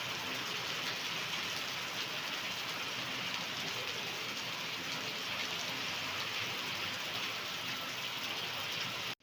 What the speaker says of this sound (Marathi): बघा पाऊस बघ सळंगधार पाऊस चालू आहे